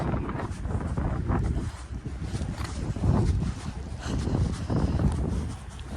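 Gusty wind buffets the microphone while someone walks outdoors along Viscount Road near Pearson Airport in Mississauga, Ontario, a loud rumbling roar that rises and falls in surges throughout.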